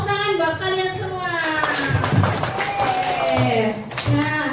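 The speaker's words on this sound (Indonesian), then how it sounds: "Tepuk tangan buat kalian semua." Students in a classroom clap together after a lesson activity, a scattered burst of applause mixed with chatter and a teacher's voice talking over it throughout.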